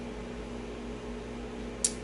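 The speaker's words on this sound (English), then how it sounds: "You're going to hear a microwave in the background." A microwave oven cooks Stouffer's macaroni and cheese, making a low, steady hum that stays faint and even throughout, with a single brief click near the end.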